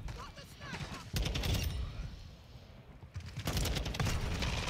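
Rapid bursts of automatic gunfire from a TAQ-56 rifle in a shooter video game, two dense crackling volleys separated by a short lull, loud and close, with someone talking over the action.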